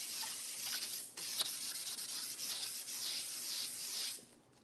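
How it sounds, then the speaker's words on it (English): Hand sanding across a lacquered tabletop: a steady, close, dry scratching rub that keeps going without a break, with one short sharper scrape partway through, then fades out at the end. "so I really do have to sand it."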